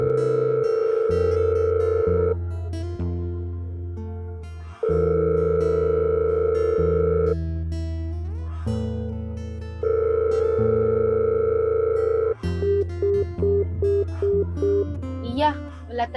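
A phone call ringing tone: loud repeated electronic rings, each about two seconds long, separated by pauses, followed by a quick series of short beeps at the end.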